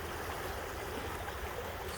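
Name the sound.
Yakima River water flowing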